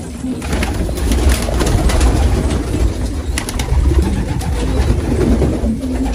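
Pigeons and their young chicks coo in a loft, a close, continuous chorus of soft throaty calls with occasional wing flutters.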